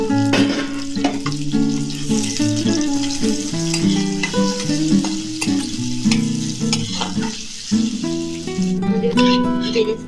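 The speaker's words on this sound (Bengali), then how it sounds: "যে পেঁয়াজগুলো কেটে রেখেছিলাম, পেঁয়াজগুলোকে ভেজে নেব।" Sliced onions fry in hot oil for biryani birista, giving a continuous hissing sizzle with occasional stirring clatter under prominent melodic background music.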